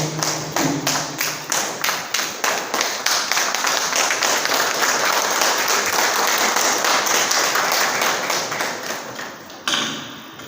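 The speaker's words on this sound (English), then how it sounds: "Big round of applause." Applause at a Santali art and film development event in Baripada, opening with sharp rhythmic claps in unison and swelling into a continuous loud round from the audience before breaking off near the end.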